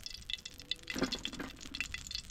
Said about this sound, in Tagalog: prito tayo ngayon